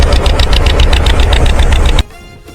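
A loud, steady boat engine chugging with a rapid rhythmic knock, cutting off abruptly after about two seconds.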